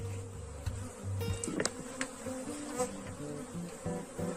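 Africanized honey bees swarm around an open hive, their dense, steady buzzing filling the air close by, with individual bees whining past now and then.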